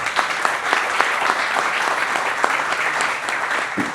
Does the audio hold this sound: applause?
yes